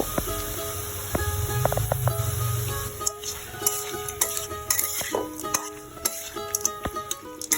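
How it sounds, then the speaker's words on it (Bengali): Duck meat seasoned with turmeric and salt is stirred in a pan, with a soft frying hiss and repeated clinks and scrapes of the spoon against the pan, plus a faint background voice. "এ পর্যায়ে হালকা করে একটু নেড়ে চেড়ে নিচ্ছি"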